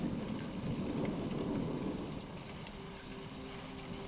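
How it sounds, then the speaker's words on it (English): Steady rain falls before a storm, a dense hiss of drops on leaves and branches that eases slightly partway through, with a faint low rumble beneath. "the rain had thickened into silver threads falling between the branches"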